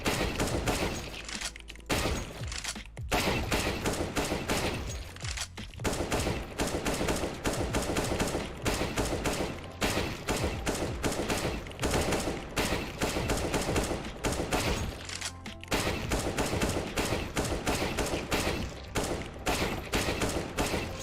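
Video game gunfire while shooting bots in an aim-training session: loud, close, rapid shots in dense bursts with brief pauses, continuing steadily throughout.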